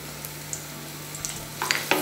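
Onions dropped into hot cooking oil in a frying pan while making chana daal, a quiet sizzle that swells into louder crackling spits and stirring toward the end, with no voices.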